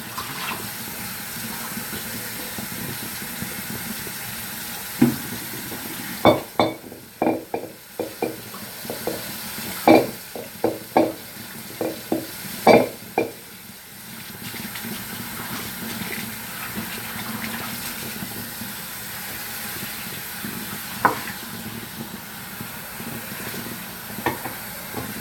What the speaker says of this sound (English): Let me clean up my wok right quick.